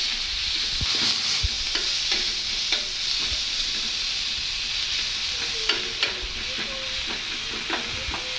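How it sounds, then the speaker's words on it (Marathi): Crushed green chili and garlic thecha sautéing on a hot pan, a steady close sizzle and hiss with occasional scraping stirs, no voices. "आपण आता ठेचा केला आहे ना मिरचीचा आणि लसूणचा, तो ह्याच्यावर घालून घेऊया, थोडा परतून घेऊया।"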